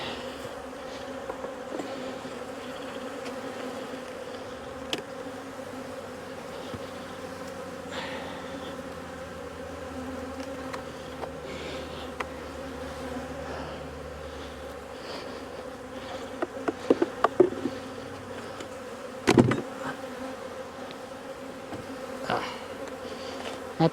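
Honeybees hum steadily around an open beehive during a brood inspection, a dense continuous drone close by, broken by a few clicks and knocks of hive equipment, with no voices.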